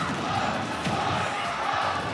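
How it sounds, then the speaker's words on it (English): A tournament crowd at a Super Smash Bros. Ultimate match chants for the player Marss, a dense steady roar with rhythmic shouted pulses throughout, loud and continuous with no clear speech. "We got a Mars chant in the crowd."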